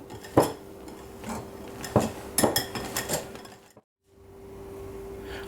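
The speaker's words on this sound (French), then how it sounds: "Toujours en passant dessous et en soulevant. Voilà, délicatement pour ne pas faire retomber la masse." Spatula folding gluten-free chocolate fondant batter in a bowl, giving soft scraping strokes with a few sharp clinks against the bowl, then a brief silence and a steady low hum.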